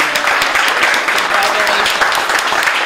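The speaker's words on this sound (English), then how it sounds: "give a big round of applause for our great city champions" Steady, dense applause fills a hall at a Grade 6 spelling bee, an audience clapping for the city champions, loud and continuous across the short stretch.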